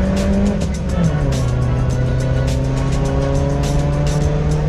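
A Nissan 240SX-style B-Spec drift car, Chris Taylor's build at Harris Hill, slides with loud continuous tire squeal over a steady, sustained engine drone, close and unbroken throughout.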